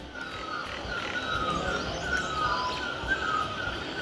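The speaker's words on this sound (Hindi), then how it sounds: "ज़रा गौर से सुनिए चारों ओर पक्षियों की चहचहाट।" Many birds chirp all around a hillside village path in the Pahadi hills, with overlapping high calls and croak-like notes forming a steady, moderately loud chorus without speech.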